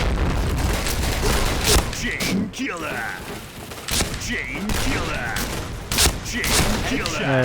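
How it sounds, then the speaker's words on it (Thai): Grenade blasts and bursts of gunfire from the first-person shooter Point Blank, a dense mix of booms and rapid shots running throughout, with a player's voice talking over the action. "ปาระเบิด"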